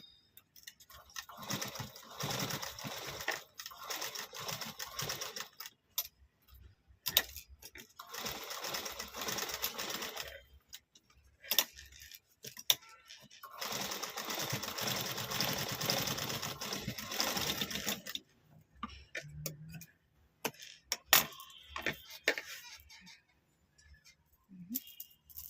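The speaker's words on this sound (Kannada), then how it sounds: "ಅದಕ್ಕೆ ನಾವು ಸ್ಟಿಚ್ ಹಾಕೊಂಡಿರೋಣ" A sewing machine stitches a dori tie cord for a blouse, running in repeated bursts of rapid needle clatter with short pauses between runs.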